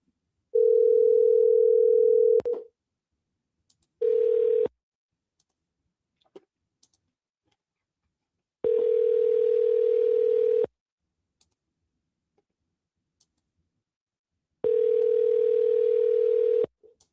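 Repeated telephone ring-back tones sound in regular bursts of about two seconds, separated by silence with a few faint clicks, as an outgoing call rings before reaching voicemail.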